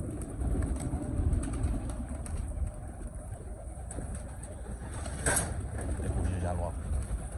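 Pigeons coo softly amid a busy, noisy background, with voices and rustling mixed in.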